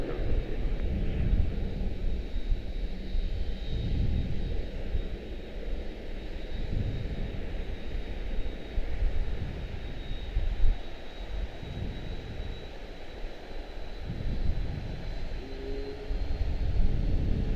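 CRJ regional jet engine at Charlotte Douglas airport, a steady broad roar with a faint high whine running throughout, fairly loud and continuous with no talk over it.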